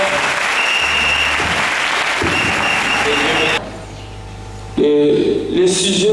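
Applause from a church congregation during a Sunday service, a dense sustained clapping that runs loud, then drops suddenly to a quieter, thinner patter before swelling again near the end.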